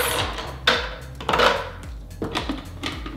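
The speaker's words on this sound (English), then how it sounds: "We're gonna throw in a few ice cubes." A few ice cubes dropped into a blender bottle while mixing a skinny cosmopolitan with vodka, giving three separate clattering knocks spread over a few seconds, close and moderately loud with no talking.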